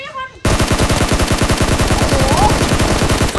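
Rapid automatic gunfire from the PUBG Mobile video game, a dense, loud burst of evenly spaced shots starting abruptly after a brief quiet moment and running steadily to the end.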